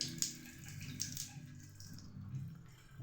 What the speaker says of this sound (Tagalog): Telephone shower ang kinabit lang.